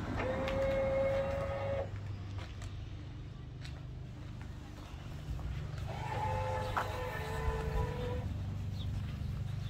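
The automatic leveling system of a 2018 Rockwood 2703WS travel trailer whirs in two separate motor bursts of steady whining tone. Between them is a low, continuous mechanical hum, heard from nearby.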